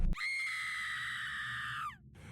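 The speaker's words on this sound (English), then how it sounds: "A scream tore from my throat as I stared at the nightmare before me" A woman's long, high, piercing scream of horror, sustained at full volume for nearly two seconds before breaking off, alone with no talk around it.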